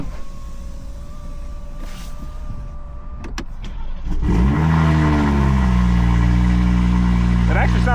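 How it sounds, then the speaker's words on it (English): From inside a 700 hp Toyota Supra, a cold start begins after a few seconds of quiet cabin hum and a couple of clicks. The engine catches loudly around four seconds and holds a steady, droning idle. "Let me give you guys an interior cold start."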